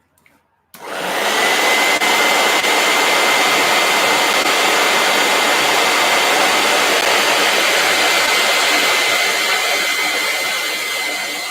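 A heat gun switches on abruptly after a quiet start and blows in a loud, steady airy roar with a faint whine, holding constant close by until the end.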